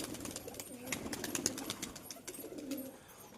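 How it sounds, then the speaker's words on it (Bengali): Pigeons released into a new cage cooing softly among fluttering and rustling, low murmuring coos over a busy, faint background. "সব কবুতর ছেড়ে দিলাম"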